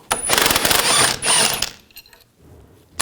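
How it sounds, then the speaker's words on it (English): A 21mm wrench ratcheting a nut on the rear forward control arm of a 2000-2006 BMW X5, a quick burst of metallic clicking and grinding close up, then trailing off into scattered faint clanks. "use a 21mm wrench on the nut"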